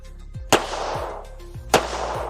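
Two sharp pistol shots of .380 rounds fired at a cheap Temu bulletproof vest from a Gearsan Lady Tip-Up, each a loud crack with a short ringing tail, about a second apart, amid faint outdoor background.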